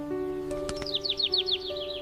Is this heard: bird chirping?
yes